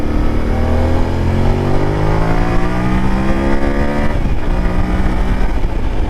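A 2025 Yamaha Tenere 700 motorcycle on a commute accelerates through the gears, its engine note climbing steadily with a brief shift dip, loud and continuous under rushing wind noise.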